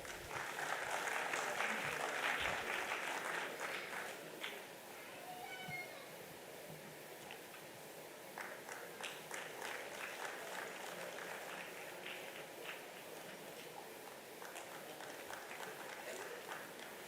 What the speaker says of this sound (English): Can we have the applause coming, please?